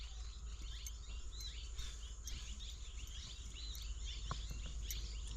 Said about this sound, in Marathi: वर पक्ष्यांचा चिवचिव वाटलं चालू आहे.